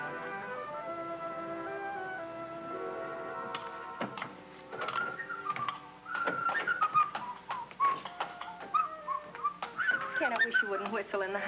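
Short melodic whistled notes rise over steady background music with clicks and taps, the whistling growing more prominent in the second half.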